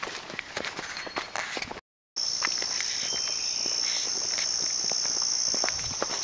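Insects chirp steadily in a rainforest, a dense, continuous high buzzing with scattered footstep-like thumps; a brief dropout interrupts it near the start before the chorus resumes.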